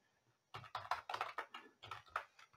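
Brisk keyboard typing, a quick run of close, crisp keystrokes in uneven bursts, with no voices.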